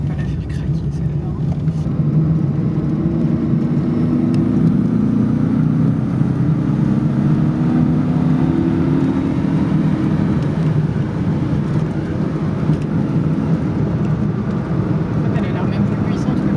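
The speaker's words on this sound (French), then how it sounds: "Elle a l'air même plus puissante que la BM, c'est bizarre. Ah ouais. Elle est plus réactive, mais elle accélère peut-être moins une fois dans les tours." An Alfa Romeo 33 under restoration accelerates on the road, its engine drone climbing steadily in pitch over a sustained, loud, close rumble from inside the car.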